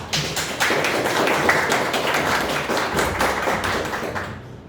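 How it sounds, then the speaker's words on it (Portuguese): Audience applause at a legal association seminar as a panel member is invited to the table, building quickly into sustained, even clapping from a medium-sized crowd before tapering off near the end. "Uma salva de palmas."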